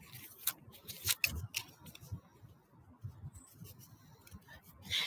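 Tarot deck cut by hand, a quiet series of soft papery snaps and flicks scattered irregularly over a few seconds, close and faint with no talk.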